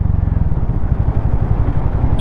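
A 2024 Hero Mavrick 440 cruiser motorcycle riding along, its engine a loud, close, steady low rumble with a rapid pulsing beat throughout, and no distinct gear-change break.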